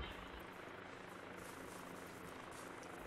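A helicopter in ArmA 2 drones steadily nearby, its rotor whir and turbine hum holding at an even level throughout without speech.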